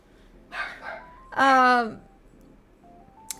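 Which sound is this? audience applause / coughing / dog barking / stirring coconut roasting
dog barking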